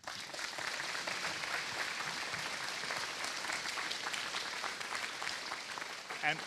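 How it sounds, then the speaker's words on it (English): Faint, steady round of applause from a small audience at a school presentation, an even patter of clapping sustained for several seconds with a voice faintly under it. "I'd like to just give them a round of applause"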